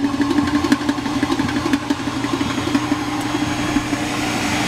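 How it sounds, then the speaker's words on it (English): An Ecoshredz shredder runs with only its blower on, giving a steady, loud mechanical drone with a rapid pulsing rattle throughout, close to the machine and with no voices over it. "the first thing is we're going to turn the blower on only"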